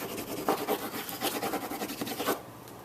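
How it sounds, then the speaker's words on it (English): Graphite pencil scribbling on paper: close, dry, rapid scratchy back-and-forth strokes with a few louder accents, running steadily and then stopping abruptly near the end. "There's a graphite scribble."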